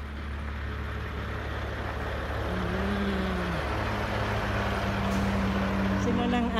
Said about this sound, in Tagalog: another truck getting into Canada.